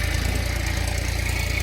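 A tractor engine runs steadily nearby, a loud continuous low rumble with a chugging pulse and no talk over it.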